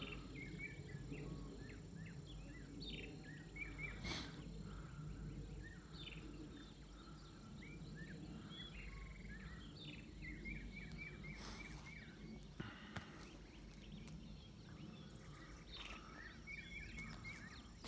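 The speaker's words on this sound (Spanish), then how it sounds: "Los pajaritos." Small birds chirp and sing in a fresh morning at a reservoir, scattered short calls repeating throughout over a steady low background rumble, faint and fairly distant.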